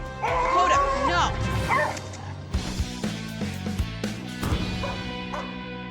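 A bull terrier that has bolted from home yips, whimpers and barks loudly at first, then in scattered bursts amid outdoor noise and people talking.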